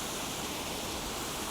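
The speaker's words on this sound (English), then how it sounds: "there's loads of water gushing" Water gushes through a lock on the Leeds Liverpool Canal, a dense, steady roar of rushing water that stays loud and unbroken with no voices.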